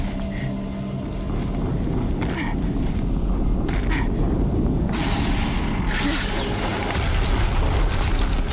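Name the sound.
explosion in the video game Horizon Zero Dawn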